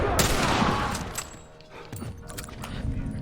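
Sharp bursts of gunfire from The Last of Us on Grounded mode, a loud cluster of rapid shots at the start, then scattered single cracks and clicks, fairly close.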